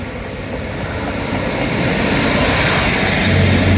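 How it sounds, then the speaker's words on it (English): A train rumbles past at Dawlish on the seaside line, a loud, steady roar that builds and swells closer over a few seconds. "Bye bye little train."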